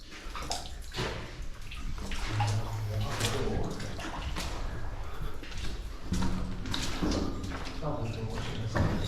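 Water runs and splashes steadily inside an abandoned World War II air raid tunnel beneath a factory, a continuous wash of sound with occasional thuds while people talk over it.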